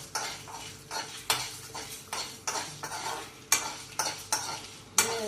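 Fenugreek seeds and red chillies dry-roast in a pan for rasam powder, a spoon repeatedly scraping and stirring with sharp, rhythmic metallic strokes over a faint dry crackle, close and steady, with no talk.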